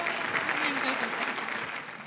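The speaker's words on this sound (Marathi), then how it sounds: "क्या बात आहे, जोरदार टाळ्या ताईंसाठी." Steady applause from an audience for a contestant at a women's Sankranti Queen competition, a dense continuous patter of clapping with a faint voice murmuring underneath, fading slightly toward the end.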